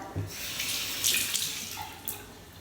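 Water runs steadily from a sink tap as hands are wetted beneath it, a close, continuous splashing hiss with brief bursts where the flow hits the skin.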